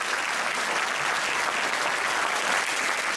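Steady applause from an audience at the Premio Eccellenze Asseminesi 2022 award ceremony, greeting honoree Michela Laconi, a contemporary dance teacher; dense, even clapping fills the whole stretch without a break.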